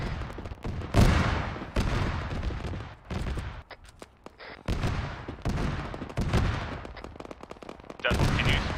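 Autocannon and machine gun fire in Arma, repeated heavy bursts and rapid volleys in close succession, loud and near, with brief pauses between strings of shots.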